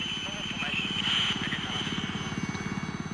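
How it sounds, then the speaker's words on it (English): A military helicopter comes in to land during a 1979 Rhodesian bush operation, its rotor thumping in a rapid steady beat beneath a high engine whine, growing stronger and more distinct toward the end. "As the first chopper comes into land"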